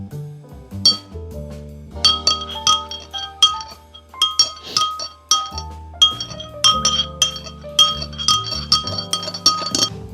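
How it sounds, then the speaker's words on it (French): A spoon clinks and rattles steadily against a glass while stirring green food colouring, giving bright repeated chimes with loud close taps and no talking. "J'ai mis 2 belles gouttes de colorant vert. On va mélanger légèrement."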